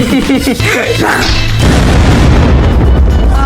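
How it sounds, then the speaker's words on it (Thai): A house is blown up in the survival video game Unturned: a loud explosion booms with a heavy, sustained low-end rumble that follows a brief patch of chatter and clatter and fills the rest of the moment. "ผมแค่อยากจะระเบิดบ้านคุณ"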